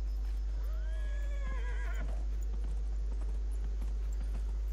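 Horse in the video game Dragon Age: Inquisition gives a clear, rising-then-falling whinny lasting about a second, followed by faint hoof clatter over a steady low hum.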